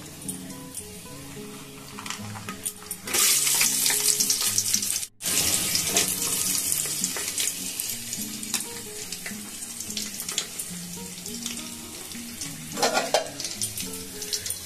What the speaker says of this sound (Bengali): এখন দিয়ে দেবো দেখুন কাজু আর কিশমিশ, এগুলোকেও তেলে দিয়ে দেব